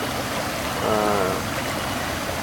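A clear, small stream flows right in front of a tent at a campsite near a spring, a steady soft rushing and trickling throughout, with a brief faint voice in the middle.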